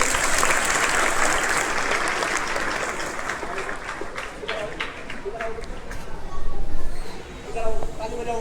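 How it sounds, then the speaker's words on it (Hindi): Schoolchildren at a school clap their hands together, a dense continuous patter of many small hands, with voices talking through and over it near the end. "बजा के देखो ताली कैसे बजा रहे थे, बजाओ ताली।"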